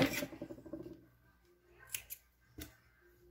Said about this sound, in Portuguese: Deixa eu já cortar esse fio, pra não atrapalhar. Cadê minha tesoura?